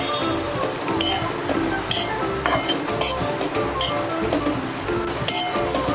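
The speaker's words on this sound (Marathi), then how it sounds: "सुकं खोबरं आपल्याला चांगलं खरपूस होईपर्यंत भाजून घ्यायचं आहे" Dry coconut roasts in a pan while a metal spoon stirs and clinks against it, with sharp scrapes and taps over a soft dry crackle, close up and without voices.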